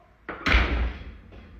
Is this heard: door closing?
yes